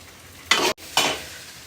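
Chicken fried rice being stirred in a frying pan, heard as two short, fairly loud scraping sweeps with a brief pause between them and no voices.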